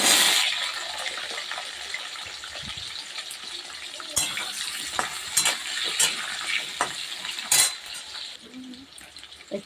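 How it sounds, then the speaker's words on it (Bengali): Cut potatoes sizzle in a soot-blackened wok over a wood fire, with a steady frying hiss broken by sharp scrapes and clinks of stirring, close and with no talk. "আলুগুলো কেটে রাখা আলুগুলো দিয়ে দিচ্ছে"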